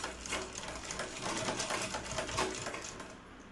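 Sewing machine stitching a blouse: a faint, fast, steady mechanical whir and rattle of needle strokes throughout, no talk.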